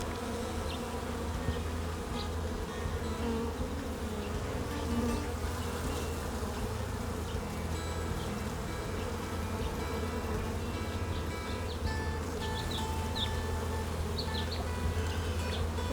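A dense, continuous drone of many honey bees buzzing from an open hive during a hive split in Northern Nevada, steady and close throughout, with no talking.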